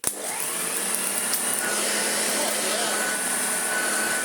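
A restored Hoover Junior U1040 upright vacuum cleaner switches on and runs with a steady, loud whirring whine for several seconds.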